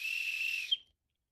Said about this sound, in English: I'm not going to blow it loud, don't worry